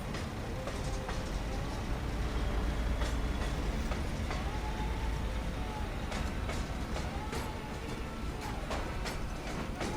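A powerful train engine in SnowRunner rumbles steadily, with rhythmic rail clatter and faint clicks running through a constant low drone, fairly quiet and without speech.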